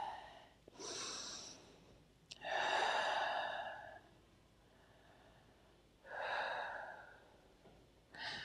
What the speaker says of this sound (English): and then as you exhale, twist.